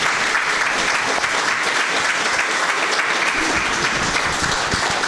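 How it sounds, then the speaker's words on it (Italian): An audience at a book presentation breaks into sustained, even applause, dense overlapping claps at a steady level throughout, with no talking over it. "un applauso meritato a Diego Pagotto"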